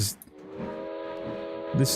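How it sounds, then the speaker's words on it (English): A steam locomotive whistle in the Trainz railway game, a thin, sustained, fairly weak tonal blast lasting over a second, with a person talking around it. "This whistle is so weak."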